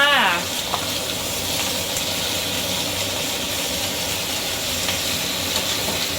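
Pork and vegetables stir-fry in a hot pan for Thai pad see ew, making a loud, unbroken sizzling hiss that holds steady throughout.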